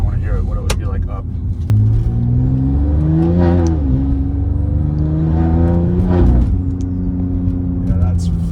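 A BMW X3M fitted with a T51R turbo upgrade accelerates hard, engine rising in pitch through the revs with a loud turbo whine, heard from inside the cabin with the windows up, steady and close throughout.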